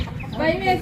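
A village hen with her chicks gives short clucking calls outdoors, close and fairly loud, mixed with a person speaking briefly over them.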